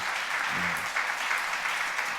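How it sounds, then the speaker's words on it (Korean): A church congregation at a Sunday afternoon service applauds together as a blessing, a steady, even wash of clapping that holds through the whole moment, with a brief low murmur near the start. "그 마음을 담아서 한번 박수로 한번 축복하겠습니다"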